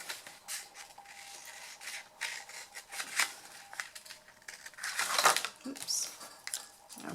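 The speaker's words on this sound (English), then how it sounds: "I'm just going to cut through these." Scissors snip through decorated paper while a box is assembled from a single sheet, a run of close, papery cuts and rasps with one louder crunch near the end.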